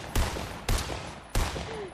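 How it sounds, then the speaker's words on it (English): Sniper rifle fire in the Fortnite video game: three sharp, loud gunshots spaced roughly two-thirds of a second apart, each with a short echoing tail. "You're gonna get sniped!"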